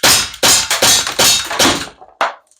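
An Ekol ES P92 CO2 air pistol fires about five sharp, loud shots in quick succession, followed by a final shot after a short pause.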